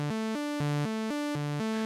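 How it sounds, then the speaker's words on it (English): Omnisphere SH101 saw synth layer playing a bright, buzzy sequence of short sustained notes that step up and down in pitch, solo and clear with no talking. "SH101 saw set up here."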